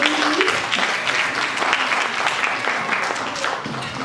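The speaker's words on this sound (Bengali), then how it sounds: "ওনার জন্য একটা বিশাল করতালি হবে" An audience at a stage performance gives a performer a big round of applause, a loud and dense burst of many hands clapping that holds steady throughout, with a brief voice at the start.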